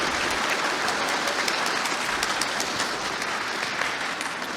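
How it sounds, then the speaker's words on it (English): A debate audience applauds steadily, a thick continuous clatter of many hands held at an even, loud level from start to finish. "I don't know why they clap for me, but thank you."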